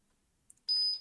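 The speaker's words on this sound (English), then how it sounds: "That first beep, you wait past that first beep, keep holding that reset button" A single electronic beep from a MikroTik router during a reset, fairly loud and steady for about a third of a second, follows a couple of faint clicks.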